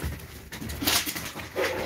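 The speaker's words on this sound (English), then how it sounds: "Here go the dogs, of course." Dogs indoors giving short whimpers and soft yips, close and fairly loud, in brief uneven bursts.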